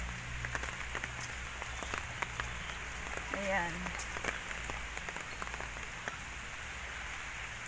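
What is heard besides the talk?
heavy rain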